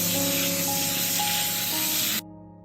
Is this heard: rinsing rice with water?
yes